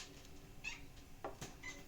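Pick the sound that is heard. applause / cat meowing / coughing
cat meowing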